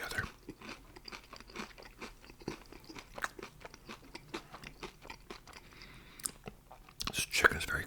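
Close, quiet chewing of crispy, crunchy fried chicken, a steady run of small crackling bites and mastication sounds with soft whispering mixed in, ending in a louder burst of crunching.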